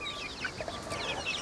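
Several young chickens cluck softly inside a backyard hutch. The calls are faint and close together, with a short, busy rhythm.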